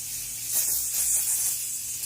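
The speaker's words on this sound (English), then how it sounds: "extra firm hold hairspray" A nearly empty can of extra firm hold hairspray gives a short, sputtering hiss of spray up close, rising and falling over about a second and a half.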